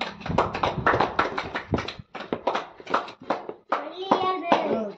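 People clapping hands in a village setting, several short bursts of quick, close claps with pauses between them and a voice mixed in.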